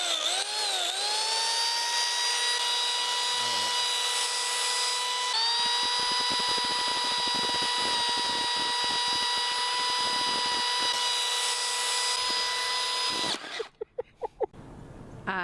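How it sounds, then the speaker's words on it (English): A chainsaw runs as someone tries to carve a turkey with it, holding a steady, high, buzzing whine for about thirteen seconds before it abruptly cuts out, followed by a few brief clunks. "she tries to carve a turkey with a chainsaw"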